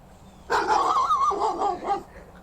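A dog barking with distress at an unseen creature, heard in a played-back clip: one drawn-out, wavering bark-whine about a second and a half long, moderately close, after a quiet start.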